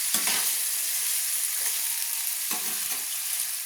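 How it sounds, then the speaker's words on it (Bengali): Potato pieces fry in oil in a pan with a loud, continuous sizzle, broken twice by brief scraping stirs. "আলুটা লাল লাল ভাজা হয়ে গেলে আমি তুলে নেব।"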